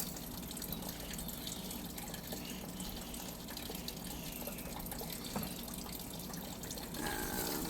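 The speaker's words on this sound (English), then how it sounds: "Put a little extra water on that and just scrub that stone just a little bit there." Water runs and splashes as a brush scrubs a stone with Dawn dish soap. The sound is a faint, steady trickle and wash that swells slightly at the end.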